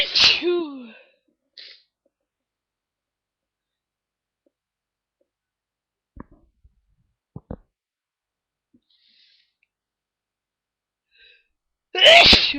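Two loud, close morning sneezes, one at the start and one at the end, with near silence and a few faint clicks in the long gap between them.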